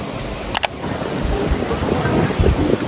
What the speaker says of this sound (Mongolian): Бороотой Вэний годомжаар алхаж байна.